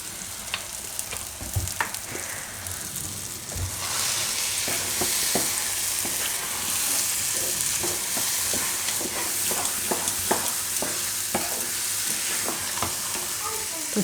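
Lilva odo, a Gujarati green-pigeon-pea dish, frying in groundnut oil in a pan, with a steady loud sizzle and repeated stirring clicks and scrapes throughout.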